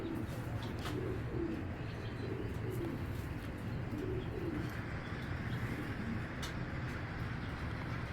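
Several pigeons at a seller's loft coo steadily and overlap one another for the whole stretch, with scattered faint chirps of other birds in the background and no talking.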